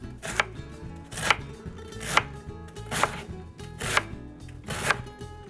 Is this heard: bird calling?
no